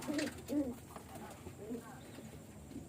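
Pet pigeons coo in soft, low repeated phrases, several short calls close by in a quiet setting, with someone speaking faintly.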